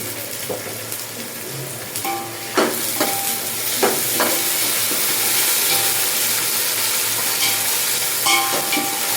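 Onion frying in a pan after ginger garlic paste goes in, a steady broad sizzle with a few scraping stirs and clinks of a spoon against the pan, close and continuous for the whole stretch.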